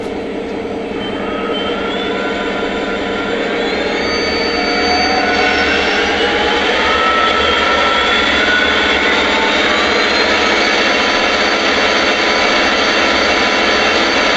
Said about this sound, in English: Next, we'll give a listen to the RPM sounds.